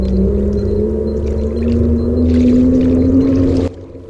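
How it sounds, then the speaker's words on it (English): A Bixpy electric motor drives a paddle board across open water, giving a steady droning hum with a rising whine and water rush, loud and close, then cutting off abruptly near the end. "decided to attach the Bixpy motor to our paddle boards"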